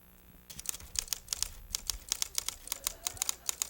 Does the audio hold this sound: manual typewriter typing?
yes